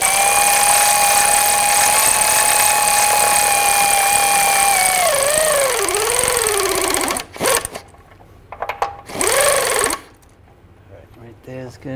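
A power tool snugs down a rear suspension nut on a 2006–2010 BMW 550i: a loud, close motor whine that bogs and drops in pitch as the nut tightens, then a few short bursts before stopping.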